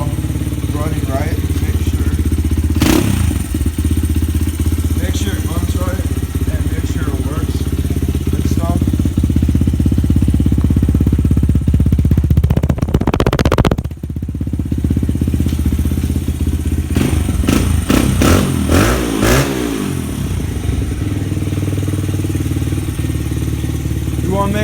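A motorcycle engine idles steadily and close by for the whole stretch, its low rumble constant, with a short dip midway and some clatter and handling noise near the end.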